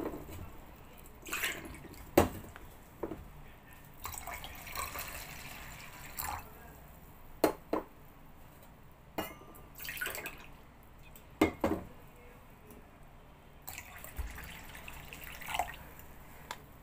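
Water poured over barley in a tumbler-measured batch for soaking, heard as a few short, faint splashes and trickles spread across a quiet kitchen background.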